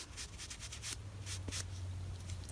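A wet baby wipe rubs along a makeup blending brush to wipe off craft ink, making soft, quiet swishing strokes close by in a steady back-and-forth rhythm, with no talking.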